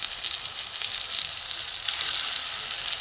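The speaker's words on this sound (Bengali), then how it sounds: "আমি একটু ছোট ছোট করেই ভেজে নিচ্ছি" Small shrimp-shell fritters deep frying in hot oil, a steady dense hiss of sizzling bubbles, close and fairly loud, with no talk.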